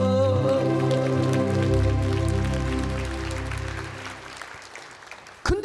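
Church congregation applauding after a sermon acknowledgment, a dense, sustained wash of clapping that gradually thins and fades over several seconds.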